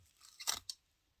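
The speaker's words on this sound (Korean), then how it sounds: "이 테이프를 뜯어서" Clear adhesive tape holding wound threads onto a backing is torn away in one short, close, raspy rip with a brief second tug, then quiet.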